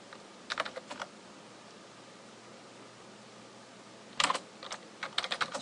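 Computer keyboard keys clatter in two short bursts of typing, a brief flurry early and another near the end, over a faint steady background hiss.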